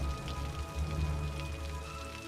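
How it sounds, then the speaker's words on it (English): Steady rain falling on surfaces in the city-building game Cities: Skylines, a continuous dense hiss with low rumble, even and moderately loud throughout. "Can you see better the rain effects?"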